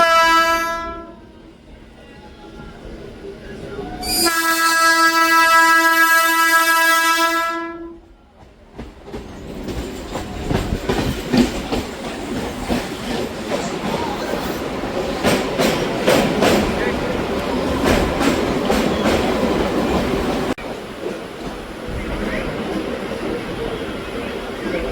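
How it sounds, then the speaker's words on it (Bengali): A local train sounds long blaring horn blasts, then rumbles and clatters along the tracks with rhythmic clickety-clack as it runs into New Barrackpore station, loud and close from inside the carriage. "ট্রেন আমাদের ঢুকছে নিউ ব্যারাকপুর"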